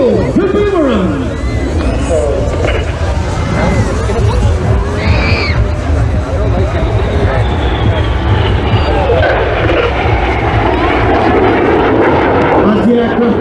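Red Arrows jets roaring overhead during an evening airshow display at Ayr, a loud sustained engine rush that swells and fades as the synchro pair pass, with a crowd murmuring and a commentator talking throughout.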